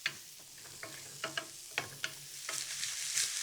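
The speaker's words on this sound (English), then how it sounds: "Let me just give these onions a stir first before I add the garlic." Onions sizzle softly in a hot pan while a spoon scrapes and stirs through them in a series of sharp, spaced clicks, the frying hiss swelling louder near the end.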